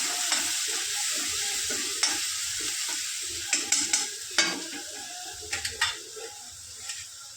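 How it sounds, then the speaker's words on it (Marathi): Garlic, green chili and coriander paste sizzles and fries in a pan, with steady broadband hiss and scattered scraping stir strokes and clinks from a spatula, no talking. "ते वाटण टाकूया. चांगलं परतून घेऊया."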